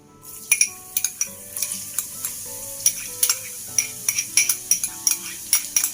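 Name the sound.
onions and garlic being stir-fried in oil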